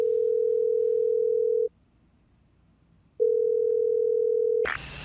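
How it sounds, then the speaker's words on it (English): A steady landline tone on a telephone before dialing 911, held for about 1.7 seconds, cutting out, then returning until a brief clatter at the end. "Jacob dials 911, seemingly at his wit's end."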